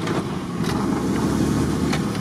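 A car driving off-road on a trail, its engine rumbling steadily and loud throughout with rough low-end noise and no clear pauses.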